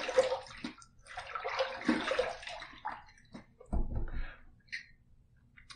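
Running water rinses an antique brass safety razor during a wet shave, splashing and gurgling close up in uneven bursts with a few drips. Nobody speaks.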